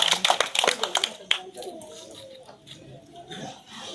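Onlookers clap at a village street show by a madari performer: a quick burst of sharp, close handclaps in the opening second, then fading into murmured talk and background voices.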